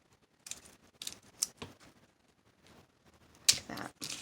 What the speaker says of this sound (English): Cut some more off.